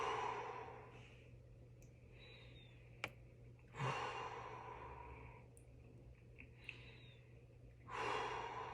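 A patient draws slow, deep breaths through the mouth and exhales through the nose during lung auscultation in a clinical head-to-toe assessment, with three soft, airy breathing bursts separated by quiet pauses.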